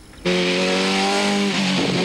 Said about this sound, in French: Alors la voiture, elle se propulse de virage en virage